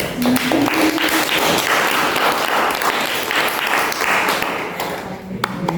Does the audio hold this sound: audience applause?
yes